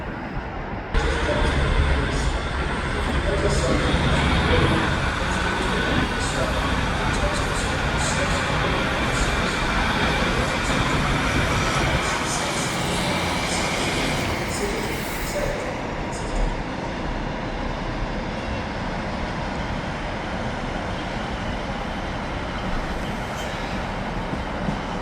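A Northern train pulls out of Stockport station toward Manchester Piccadilly with a steady rumble and rattle of wheels and carriages, and a faint squeal now and then. The sound stays loud and continuous for the whole stretch as the train rolls past.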